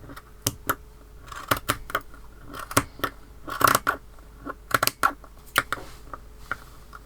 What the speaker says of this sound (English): then I'm going to trim the ends